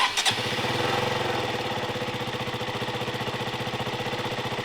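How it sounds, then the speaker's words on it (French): A motorcycle is cranked on its electric starter and catches instantly, the brief starter whir giving way to a steady, close, even idle with a regular thumping pulse. "un petit tour de clé, on attend que la moto se mette en route, c'est bon, petit coup de démarreur"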